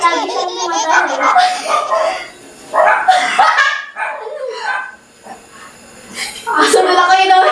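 A dog barks in short, sharp bursts, close and fairly loud, mixed in with children and adults talking.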